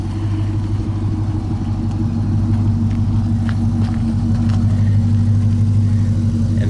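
A 2007 Dodge Charger SRT8 engine running steadily, with a loud, constant low rumble close by that holds even throughout, and no one talking.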